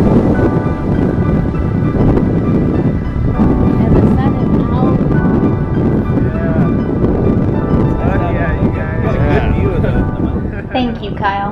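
A sailboat under way in strong wind, with heavy steady wind rumble and rushing water close by while people talk and shout over it.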